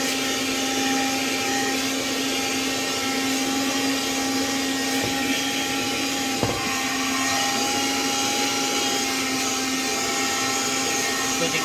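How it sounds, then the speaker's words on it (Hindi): A vacuum cleaner runs steadily on a car floor mat taken out during interior cleaning, a loud, continuous motor whine and airflow hiss with a couple of brief knocks as the nozzle moves. "फिर उसके बाद वैक्यूम क्लीनर से हम ऑन करके फिर उसको भी साफ कर लेते हैं।"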